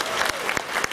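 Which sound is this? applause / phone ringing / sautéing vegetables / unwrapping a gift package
applause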